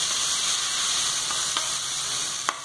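Water poured into a hot cumin and mustard tempering for kadhi, with red chili, produces a steady loud sizzle and crackle close up, a few sharp pops near the end, no voices.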